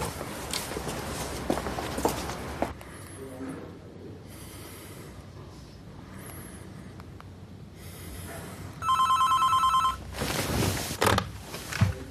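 A mobile phone rings once in a short electronic burst of about a second, heard amid shuffling footsteps and heavy breathing in a quiet space.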